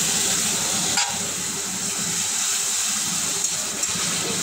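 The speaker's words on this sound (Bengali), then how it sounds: "নাড়াচাড়া করে নিই, কষিয়ে নেব।" Masala paste of onion, garlic and ginger is fried and stirred in a pan for a fish curry. A loud continuous sizzle carries a few faint scrapes of the spoon.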